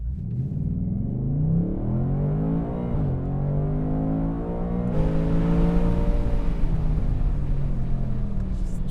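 Ford Mustang Dark Horse V8 revs hard through rising gear sweeps, with a drop in pitch around the shifts and another climb as it accelerates. The engine is loud, close and continuous, with no talking.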